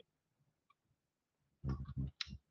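A computer mouse clicks OK while an animation is applied in CLO 3D software: one faint, short tick early on, followed by a louder cluster of brief bursts near the end.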